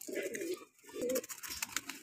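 A red Chinese Punjabi Malwai pigeon coos close by in two short low bursts separated by a brief pause, then faint rustling follows.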